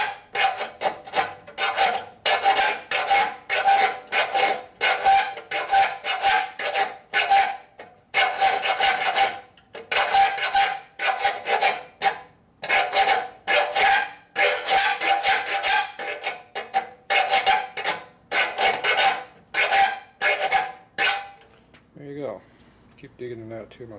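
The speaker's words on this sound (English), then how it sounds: "File is 1/4 inch, as they call, so if it goes all the way through" Steady back-and-forth rasping of a quarter-inch file enlarging a hole, in rhythmic bursts of strokes with brief pauses, loud and close, working on a 1973 Harley-Davidson Shovelhead 74ci bobber custom build; sound stops near the end.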